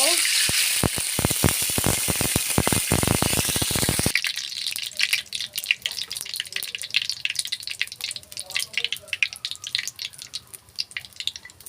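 Oil heats in a kadai as ginger, onion, garlic and green chili go in, giving a loud spitting sizzle that eases into a softer, crackling fry with scattered pops.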